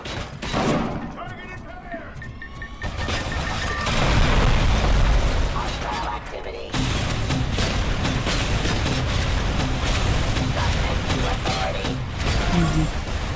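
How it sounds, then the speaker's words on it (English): A grenade launcher in RoboCop: Rogue City sets off loud, rumbling explosions and heavy thuds. Gunfire and mechanical clatter run dense and continuous for over ten seconds, with a brief drop in the middle, and speech is heard over the din. "Grenade launcher."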